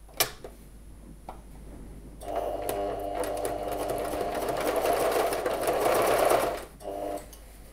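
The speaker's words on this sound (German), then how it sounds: "von der schönen Seite kommt jetzt die Schrittnaht, nochmal der Zierstepp drüber. Zunächst schmalkantig." A sewing machine runs a steady, fast-stitching burst topstitching a decorative seam along the crotch of a pair of jeans, close and loud, starting after a couple of seconds of near quiet and stopping shortly before the end.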